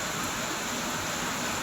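Rain falling outside on a rainy-season day, a steady dense hiss of drops with no breaks and no other sounds.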